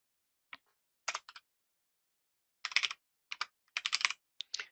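Code being typed on a computer keyboard, in short separated bursts of crisp key clicks with pauses between them, close and clear with no talking.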